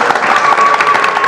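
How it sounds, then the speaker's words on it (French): Audience applause in Kigali at a concert, a dense steady wash of clapping with faint crowd noise, loud and continuous throughout. "Applaudissez si vous passez un bon moment à Kigali."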